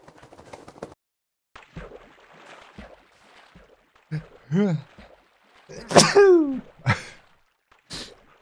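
A person sneezing indoors, several sharp close bursts with gasping breaths in between, loud against near silence.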